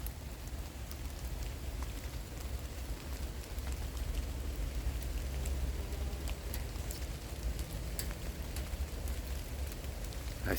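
Steady rain falls in an autumn forest at the end of September, a constant soft hiss with scattered faint drops and ticks throughout and no voices.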